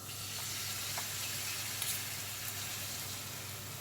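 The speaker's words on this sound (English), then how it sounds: "You've got hot oil, very hot oil, because you want it to go psh when it hits the pan." Onion bhaji batter hits very hot frying oil, producing a steady, close hiss of sizzling broken by a few faint crackles and pops.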